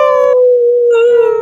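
Human voices imitate a wolf howl in one long, loud, steady tone, sung together, with a brief thinner stretch in the middle and fuller layered voices at the start and end.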